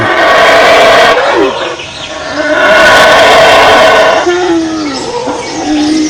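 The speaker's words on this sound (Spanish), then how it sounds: "El grito del mono aullador." Loud, drawn-out roaring howls of howler monkeys in the Yucatán jungle rise and fall in long waves, with overlapping calls sounding like several animals together.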